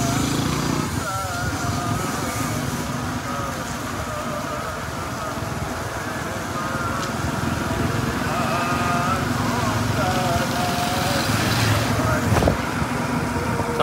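A motorcycle passes on a road amid steady traffic and engine drone, running continuously and moderately loud throughout, with a sharper burst near the end; no one speaks over it.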